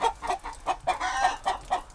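A chicken gives a warning call in a backyard flock kept with geese in winter, a rapid series of about eight sharp clucks in quick rhythm, close and clear with no talk.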